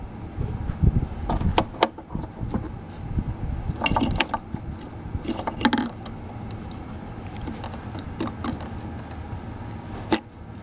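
A headlight bulb is fitted and twisted into the plastic rear socket of a 2001–2007 Dodge Grand Caravan headlight, making close, scattered plastic clicks, scrapes and rattling handling noises with a few sharper snaps.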